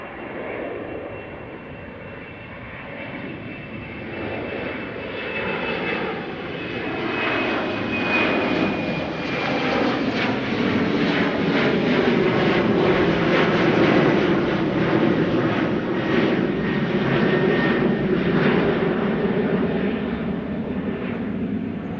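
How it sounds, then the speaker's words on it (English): An Embraer 190 jet takes off from runway 18L at Amsterdam Schiphol on a morning departure, its engine roar building into a loud sustained broadband rumble with a whining tone that peaks mid-clip and then begins to fade. "taking off from 18 left. There's one. There's the Embraer 190."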